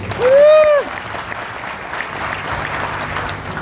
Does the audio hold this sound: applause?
yes